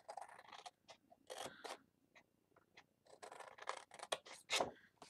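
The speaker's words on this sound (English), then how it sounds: "Turn it around and cut." Scissors snipping through card in a series of short, crisp cuts and scrapes, close and fairly quiet, with pauses between bursts.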